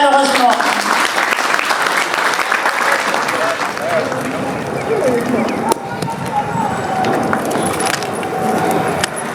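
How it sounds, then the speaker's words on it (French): An audience gives loud, sustained applause at the installation ceremony of the RIPREM Europe bureau in Paris. The dense clapping continues for several seconds and softens slightly midway, with voices mixed in. "nous vous prions d'applaudir très chaleureusement"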